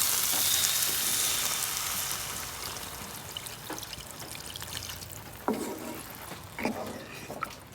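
Water splashes into masala and potatoes frying in a pan for Bengali rui fish curry, a broad hiss fading into steady sizzling with a few sharp pops and crackles close by.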